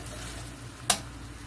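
Chopped onions browning with chicken bouillon in a pan, a steady soft sizzle broken by one sharp brief clatter of stirring partway through.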